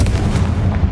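Confringo fire spell exploding in Hogwarts Legacy on PS5, a loud, close, booming blast with a heavy low rumble filling the whole moment.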